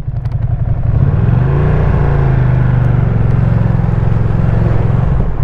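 KTM Duke 790 motorcycle with stock exhaust riding through traffic, its engine a loud, close, steady low rumble that rises slightly in pitch and holds, with no talking.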